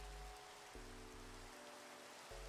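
Steady rain hisses continuously across a video game scene at a low, even level, with low humming tones underneath that shift a few times.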